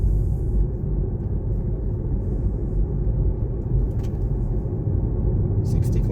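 Hyundai IONIQ 5 rolling on a space saver spare wheel and tyre at around 50 km/h, a steady low road and tyre rumble filling the cabin with little variation.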